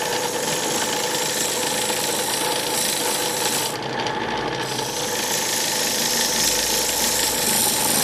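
A wood lathe turns a small wooden cup as the edges are thinned, giving a continuous close-up scraping and cutting drone with a steady motor hum and no pauses.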